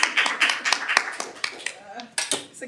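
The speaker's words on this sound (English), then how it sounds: "give her a clap back" A small audience at a Daly City Recreation Commission meeting applauds a new administrator with a brief burst of irregular, fairly close hand claps while voices murmur underneath.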